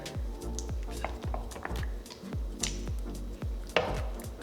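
Versagel, a clear gel base for lip gloss, being stirred in a container: a regular series of soft, wet, squishy taps and scrapes about twice a second, close up, with no talk.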